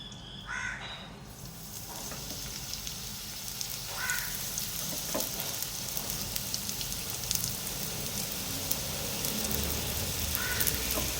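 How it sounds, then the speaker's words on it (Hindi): Samosas deep-fry in hot oil with a continuous, rain-like crackling hiss, while a few bird caws sound faintly in the background. "अब मैं समोसे फ्राई करूंगी।"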